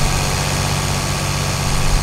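A Sonalika 60 DI tractor in Farming Simulator 22 labours uphill in high gear, a loud, steady low engine drone with constant vibration and no breaks.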